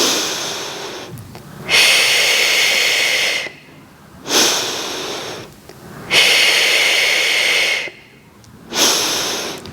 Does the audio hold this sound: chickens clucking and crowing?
no